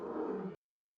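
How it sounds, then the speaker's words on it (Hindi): A lion's roar as a cartoon story sound effect: one loud, full-bodied roar lasting about half a second that cuts off abruptly into silence. "कुछ दिन बाद उसकी दहाड़ वापस आ गई"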